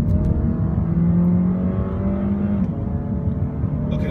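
2015 Dodge Dart GT accelerating from inside the car, a loud steady engine drone with rising tonal hum, close and continuous, no talking.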